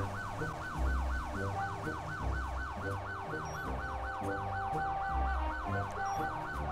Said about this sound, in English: Sir, your siren's on.